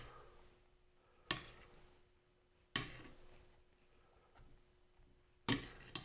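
Homemade fire starters flipped in a skillet give three sharp metallic clanks, spaced a second or more apart, against a nearly silent background.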